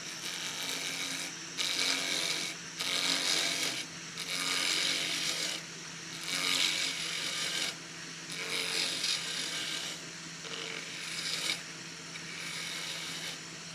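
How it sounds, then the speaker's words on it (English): Roughing gouge cutting a rectangular wood blank round on a Wadkin lathe, a steady rasping scrape in repeated passes over a constant motor hum, close and fairly loud. "Just going to use my rough and out gouge to go from rectangular to round."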